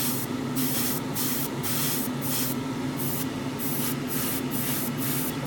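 An airbrush or spray can lays light coats of paint on a 1:12 Tamiya Yamaha YZF-R1M model swingarm, a close, continuous hiss pulsing in short, regular bursts.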